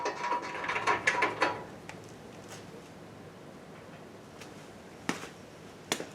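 A ratchet tightens a rear bumper bolt on a Mustang, a close burst of rapid clicking at the start, then quiet with a couple of isolated metallic ticks later.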